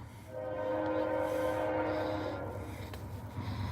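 A freight train's horn blares in a long, loud sustained blast at a railroad crossing at night, steady for several seconds over the rumble of the train.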